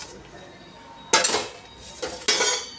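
A metal spoon scrapes and clinks against a pot while wheat kheer is served, giving a few bright clanks after a quiet stretch, close and fairly loud, with no speech.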